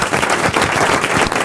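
Studio audience applause for comedian Marc-Antoine Lebré on an RTL radio show, a steady dense wash of clapping, loud and continuous throughout with no voices over it.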